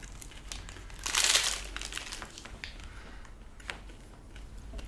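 A cricket protein bar wrapper is torn open with a short burst of close crinkling, followed by faint rustles and small clicks in a quiet room.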